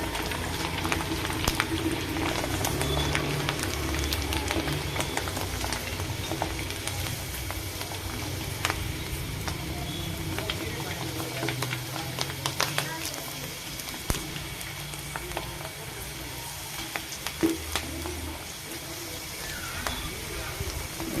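White rice murukku sizzles and bubbles steadily in hot frying oil at a roadside mirchi stall, a continuous dense crackle under a voice talking throughout.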